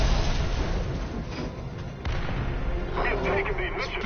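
A tank cannon fires in War Thunder, delivering heavy booming blasts with rumbling low-end aftermath under a continuous engine drone, while a player talks over the battle.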